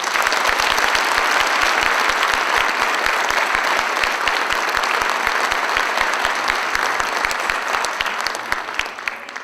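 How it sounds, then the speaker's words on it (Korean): Sustained, loud applause from an audience at a university president's inauguration ceremony after a guitar, percussion and haegeum performance, dense and even for the whole stretch before tapering at the end. "박수 한번 보내주세요."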